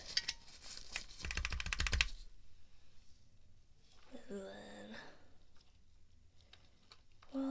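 Keycaps clicking into place on a keyboard being assembled: a quick burst of dense, close taps near the start, then quieter scattered clicks, with a voice talking softly in the middle.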